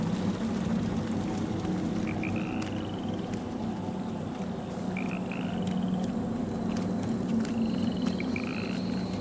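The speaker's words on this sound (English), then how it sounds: "There's a frog right there." Frog croaking in the Lords of the Fallen video game, a steady chorus of chirping croaks over a constant low ambient drone, moderately loud and continuous throughout.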